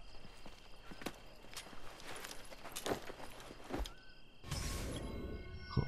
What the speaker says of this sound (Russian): хоть в этот раз он для меня лошадь тоже нашел